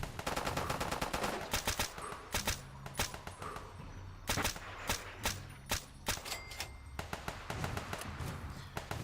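Gunfire in Fallout 3 and New Vegas, with rapid bursts of loud shots in irregular clusters and short pauses between volleys, sharp and close, with no talking.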